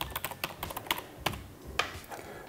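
An email address is typed on a computer keyboard in a quiet room, a quick irregular run of light, close key clicks lasting a couple of seconds.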